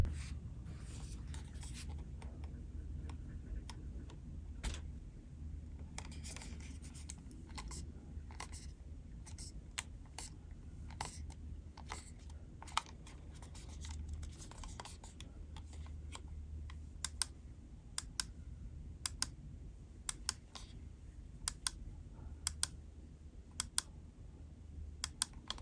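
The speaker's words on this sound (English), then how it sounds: "there's a clicking sound when you hard press the part below the side buttons" VXE MAD R Major gaming mouse giving faint clicks as the area below its side buttons is pressed hard, small sharp ticks scattered over a low steady background hum, growing more frequent toward the end.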